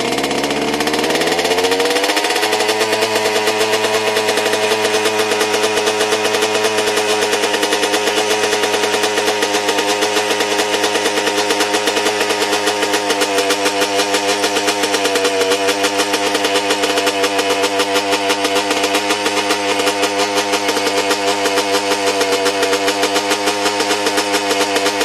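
A flooded, oil-logged 2-stroke engine runs steadily to clear itself out, its loud buzzing drone revving up in the first seconds and then holding a constant, rapid, rattling tone, with no talking.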